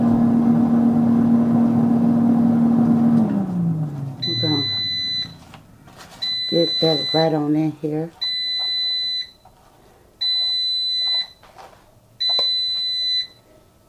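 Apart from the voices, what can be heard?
smoke alarm beeping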